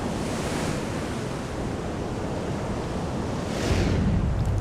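Ocean waves surging and breaking along the Moche coast of Peru, a loud, steady roar of surf with wind noise, building to a fuller crash near the end, with no voices.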